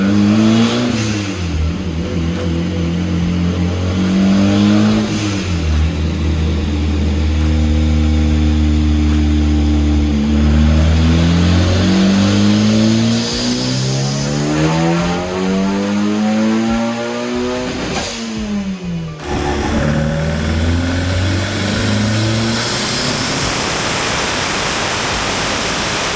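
A turbocharged, high-compression 1.6-litre Mazda Miata engine revs hard on a dyno, climbing through several long, loud sweeping pulls and dropping back to idle between them, close and continuous with no talk.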